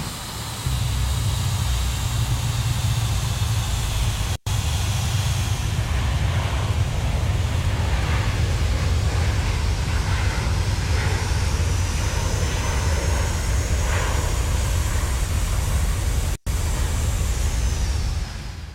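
An airliner landing in a crosswind in Microsoft Flight Simulator X, flying from Guayaquil to Quito, with a loud, steady engine roar and rushing air hiss that hold for the whole landing.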